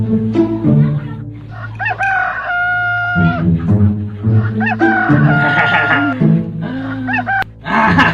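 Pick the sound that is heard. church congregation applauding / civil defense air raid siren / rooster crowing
rooster crowing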